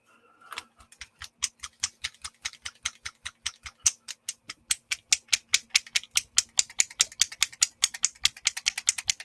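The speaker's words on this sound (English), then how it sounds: "I'm just shaking my paper." A sheet of paper is shaken back and forth outdoors, making a rapid run of crisp, evenly spaced rustling snaps that start sparse, then speed up and grow louder as the shaking continues.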